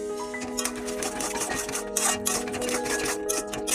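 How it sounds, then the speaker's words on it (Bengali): Roasted whole cumin is ground into powder, giving a close, continuous scraping and rubbing with faint tonal hum and small clicks throughout. "গোটা জিরে ভেজে রেখেছিলাম ওটাই গুঁড়ো করে দিচ্ছি"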